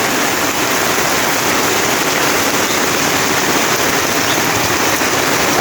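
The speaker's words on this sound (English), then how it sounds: "It is raining here like, dang, this is much." Heavy rain pours down steadily in Mombasa, a dense, loud, continuous hiss of water striking surfaces close by, with no breaks and no voices.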